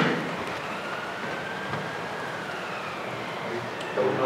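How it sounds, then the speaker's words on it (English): Rain spraying in through an open window during a robotics planning competition session at a conference, a steady broadband hiss that continues throughout with a slight swell at the end. "oh, there's actually rain spraying."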